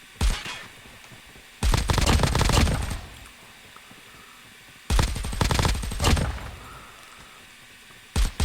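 Rapid bursts of assault rifle fire from a multiplayer shooter game on mobile, a three-round-burst AR, sounding as two loud sustained volleys separated by quiet gaps, with a brief burst starting again at the end.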